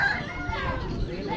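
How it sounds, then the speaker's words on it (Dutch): A rooster crows amid the busy bustle of an African poultry market, with other fowl clucking and people talking nearby throughout. "Kijk, hier kun je haantje kopen."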